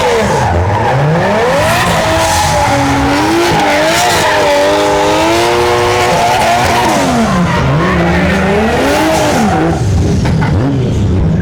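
Drift cars at Tarlac Circuit scream through a slide, tires squealing in long wavering howls over loud revving engines, close and continuous for several seconds.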